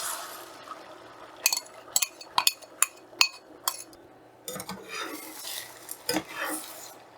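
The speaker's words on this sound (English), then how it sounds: "So what I'm doing is basically move the gelled eggs away so that the liquid can touch the wok surface." A spatula scrapes and clinks against a hot wok while eggs are stirred and pushed around, with a dozen or so sharp metallic taps at irregular intervals over a soft, steady sizzle.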